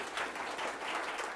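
A debate audience claps in a brief, moderately quiet burst of applause, a steady wash of hand claps lasting just over a second with no talking over it.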